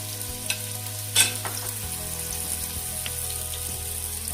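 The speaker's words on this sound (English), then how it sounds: "The half onion that we chopped earlier, we're going to add it now." Chopped onion frying in vegetable oil in a pan, a soft, steady sizzle with a few clinks of stirring, close and quiet, with no talk.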